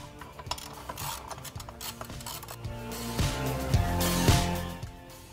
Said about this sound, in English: Take the 6mm Allen wrench, loosen the Shift-Tek